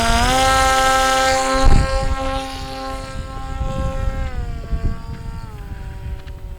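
An SF25 SuperFly delta wing RC plane throttles up for takeoff, its electric motor giving a steady high-pitched whine that holds loud, then drops and wavers in pitch as the small aircraft pulls away, with a brief thump near the start.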